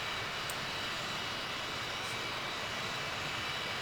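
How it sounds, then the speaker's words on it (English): Twin jet engines of an SO-4050 Vautour in Microsoft Flight Simulator roar steadily, a dense continuous whoosh that stays loud and unchanging throughout with no talk. "Hopefully we've got both engines running."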